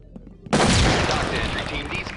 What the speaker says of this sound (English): Idiots are shooting each other.